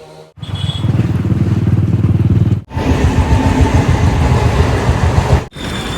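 A Bullet motorcycle engine thumps steadily while riding, a loud close low-pitched pulsing drone with two brief cutouts, under wind noise.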